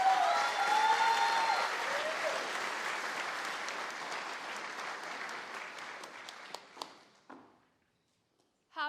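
An audience at a summer startup showcase gives a round of applause. It starts dense and fairly faint, then tapers off into a few last scattered claps before falling silent.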